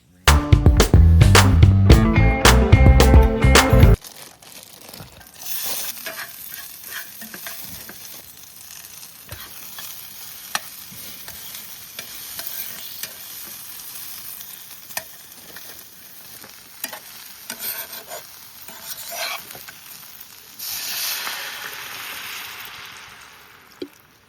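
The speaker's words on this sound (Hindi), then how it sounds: "तो भाई स्टोव जल चुका है अपना, अब बनाते हैं मैगी।" Maggi noodles cooking on a camping stove by the Ramganga River at Thal, Pithoragarh: a loud clattering burst at the start, then a soft steady sizzle and bubbling with occasional light clinks and stirring.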